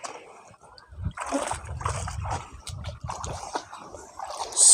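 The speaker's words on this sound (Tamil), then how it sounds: "இங்கே பாருங்கள் எவ்வளோ க்யூட்டாக இதில் தண்ணியில் நீஞ்சிகிட்டு இருக்குதுங்க" Native water buffaloes swim and splash in water, with irregular nearby sloshes and splatters rising and falling over a few seconds and a louder burst at the end; no one talks.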